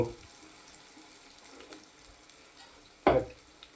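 Egg fry masala cooking in a pan with salt and chili, a quiet steady sizzle with a few soft stirring scrapes and one loud clatter near the end.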